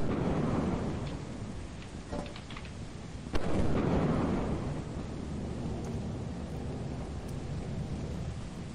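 A lightning strike and thunder in the video game Lethal Company: a sudden sharp crack followed by a heavy rolling rumble over steady rain noise, loud and close, with no talk.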